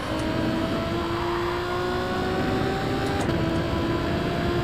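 A basic road car revs under full throttle in the Gran Turismo 7 racing game, a steady droning engine note with faint whine lines, loud and continuous throughout with no talking.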